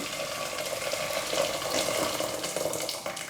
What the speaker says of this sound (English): Going to pour in some boiling water